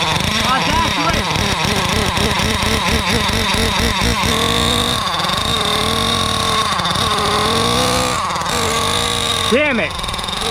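A 1/5 scale Thunder Tiger nitro RC motorcycle engine runs loud and steady with a buzzy, revving drone, an air leak at the exhaust, and pitch swells and dips throughout.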